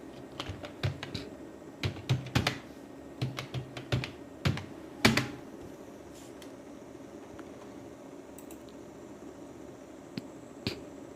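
Irregular bursts of keystrokes on a computer keyboard, clustered at the start and then thinning out to sparse single taps over a low air-conditioning hum.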